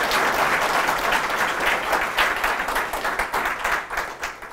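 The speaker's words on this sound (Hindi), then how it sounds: "तालियां बजाएं आप इनके पति के सम्मान में" An audience claps in honour of a colonel's wife, a dense, sustained round of applause that stays loud and even, then begins to thin slightly toward the end.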